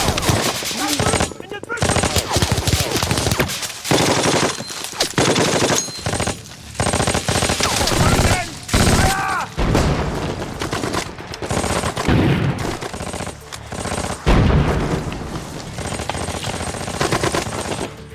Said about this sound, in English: A rival position detected the movement and opened fire without mercy.